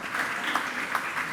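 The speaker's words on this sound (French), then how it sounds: "Vous avez le droit d'applaudir quand même" Brief burst of audience applause at a housing and urban policy round-table conference, a dense, even wash of clapping from a seated crowd, moderately loud and cut short.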